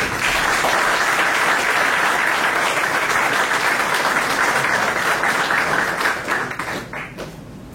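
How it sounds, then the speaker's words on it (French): A crowd at a 2022 diploma graduation ceremony breaks into loud, sustained applause, a thick continuous roar of clapping that stays strong for several seconds before easing off near the end. "Sous vos acclamations, s'il vous plaît"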